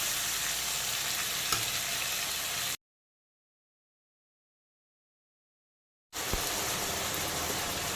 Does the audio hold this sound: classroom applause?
no